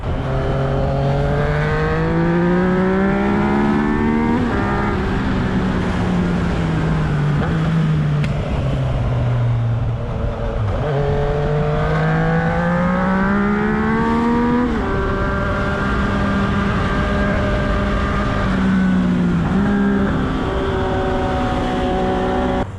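A Yamaha XSR900 motorcycle with a three-cylinder engine pulls hard after a downshift, its loud, close engine note climbing through repeated rising revs with brief dips between gears, and no talking.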